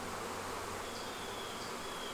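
Honeybees buzz inside a weak, queenless hive in bad shape, a steady dense hum filling the whole stretch with faint higher whines drifting over it, close and continuous with no talk.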